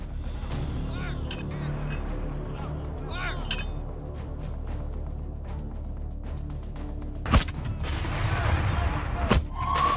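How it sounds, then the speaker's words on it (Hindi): Hamas mortar shells fired at an Israeli army base on the Gaza border: a rumbling run of distant thuds and blasts, with a sharper close boom near the end over a continuous low roar. "हमास का आईडीएफ को मोर्टार से हमला। इजरायली बेस पर बरसाए गोले।"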